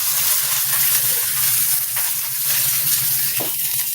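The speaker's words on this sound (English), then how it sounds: "You hear that sizzle?" Hot oil, overheated to the point of burning, sizzles steadily in a pan, a close, continuous crackling hiss with a few faint clinks.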